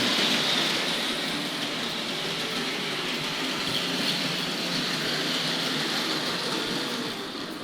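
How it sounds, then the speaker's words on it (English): A small model R.52 Jinty tank locomotive pulling suburban coaches runs steadily along its track, a continuous whirring rumble with rail noise that holds level before easing slightly at the end. "let's see if we can get the tank locomotive away there with the suburban coaches"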